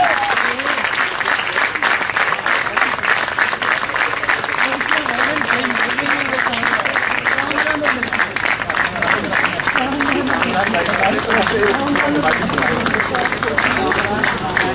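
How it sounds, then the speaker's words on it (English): A big round of applause from a crowd at a presidential gold medal award ceremony, loud and continuous throughout, with a murmur of voices and cheering mixed into the dense clapping. "the President's Gold Medal, with a huge round of applause, is awarded to Madam Sonia Sadaf"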